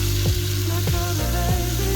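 Steady, loud sizzling of shrimp frying in a hot pan with Old Bay, garlic sauce and sesame oil, a continuous crackling hiss with a few soft scraping stirs, no voices.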